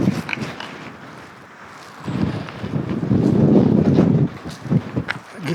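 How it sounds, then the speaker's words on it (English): Strong, cold wind gusts over a mountain trail near the Bush Mountain campsites in Guadalupe Mountains National Park, buffeting the microphone and swelling to a loud, sustained roar midway before easing, with a few faint footstep-like knocks. "Oh, that wind is cold and strong."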